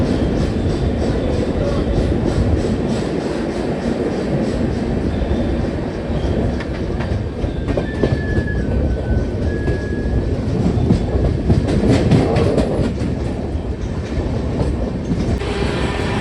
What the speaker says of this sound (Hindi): हमारी युवा एक्सप्रेस जो है वो अब निकल रही है सूरत रेलवे स्टेशन से